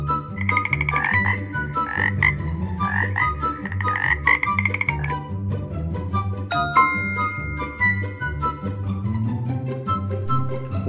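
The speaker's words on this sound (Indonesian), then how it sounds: "Wow, kodok ngorek." Rhythmic frog croaks repeat over a jingly, bell-like melody, loud and continuous throughout.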